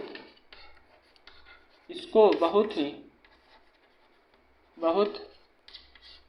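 Marker or chalk scratching on a classroom board during a polytechnic lecture on underground cable laying, faint intermittent strokes running under a voice that talks in bursts.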